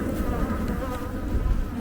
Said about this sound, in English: I like to see all this bee activity.